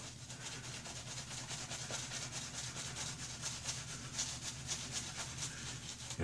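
Safety razor fitted with a Voskhod blade scraping across the upper lip, a close, steady rasping stroke repeated in quick rhythm throughout.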